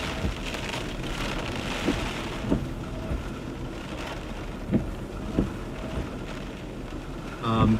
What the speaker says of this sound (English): Just sit back and enjoy the sound of the rain.